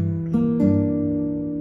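A few fingerpicked acoustic guitar notes climb upward from a paired bass note, each pluck ringing out close and clear before a sustained tone lingers and fades.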